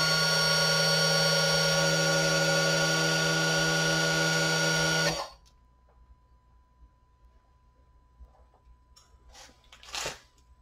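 The electronic parking brake motor on a Honda Accord's rear caliper, driven by a scan tool, whirs with a steady motor whine for about five seconds and then cuts off abruptly, leaving faint background clicks.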